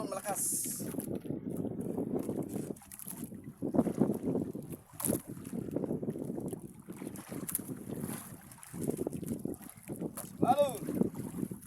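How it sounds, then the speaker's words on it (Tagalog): Strong wind and rough waves on the open sea from a small fishing boat, gusty wind rumble and water sloshing throughout, with people talking over it. "kaya medyo malakas yung hangin. Malakas yung alon malakas."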